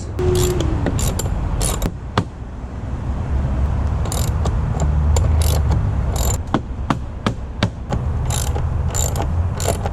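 A hand ratchet tightens a cartridge filter housing, giving loud close bursts of rapid clicking in short repeated strokes with brief pauses between them.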